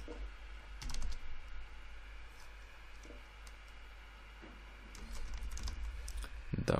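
Soft, close computer keyboard typing sits over a low steady hum, with scattered key clicks and short runs of keystrokes, plus a slightly louder burst near the end.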